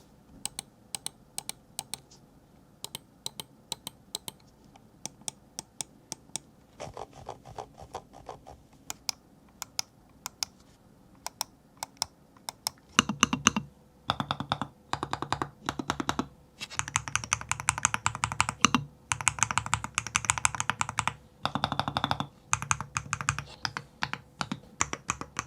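Mechanical keys clacking on a MelGeek Centauri80 keyboard during a sound test, starting with sparse, scattered keystrokes and building into fast, dense bursts of typing, close and crisp with no talking.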